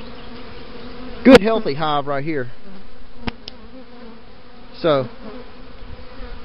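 A steady drone of honey bees hums from an opened hive during a post-winter inspection, with someone talking over it and a few sharp, loud buzzes as single bees pass near.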